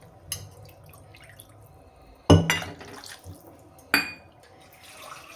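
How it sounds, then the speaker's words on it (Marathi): Water poured from a mixer jar into a cooking pan for dhaba-style egg curry, a couple of sharp splashing pours with trickling drips between them, close and clear with no speech. "सो आता हे मिक्सरच्या भांड्यामध्ये मी पाणी ओतलं होतं तेच पाणी ह्याच्यामध्ये टाकून घेते."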